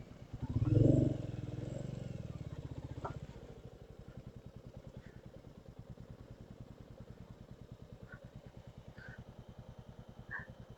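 A motorbike climbing toward Kaginahare View Point putters with a steady, rapid engine pulse. It starts with a louder rev and then settles into a low, even chug close to the listener.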